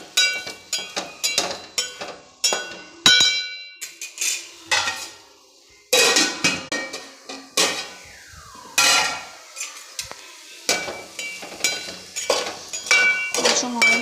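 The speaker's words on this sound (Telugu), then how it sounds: "ఇవి మాడిపోకుండా జస్ట్ 2 మినిట్స్కి ఒకసారి ఇలా కలబెట్టాలి" A metal spoon stirring and scraping vegetables in a cooking pan, with repeated sharp clanks and clinks in an irregular rhythm, close and clear, with short pauses between strokes.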